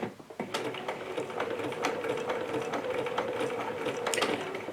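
A sewing machine runs steadily for a few seconds, its rapid mechanical stitching clatter with a constant hum and repeated sharp clicks, close and alone without talk.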